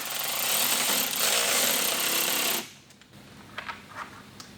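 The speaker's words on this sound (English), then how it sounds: "we're going to put the screw through the liner, going into that clip that we just placed inside" Loud buzzing whir of a power driver sending a screw through a mud flap and fender liner into a clip on a 2022 Toyota GR86, lasting over two seconds before cutting off, then light handling clicks.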